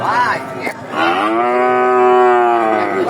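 A Holstein Friesian cow at a livestock market gives one long, loud, close moo that swells and holds steady before trailing off, preceded by a shorter lowing call.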